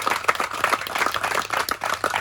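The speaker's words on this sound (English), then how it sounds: "a round of applause. Here it is." A short, dense round of applause from a crowd gathered for the Ride for Jillian charity event, brisk clapping heard close with no one speaking over it.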